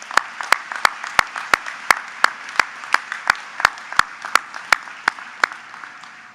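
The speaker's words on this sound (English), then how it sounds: "One round of applause, please" A university commencement audience applauds in a large hall, a moderate wash of clapping punctuated by one prominent close clapper striking in a steady rhythm of roughly three per second.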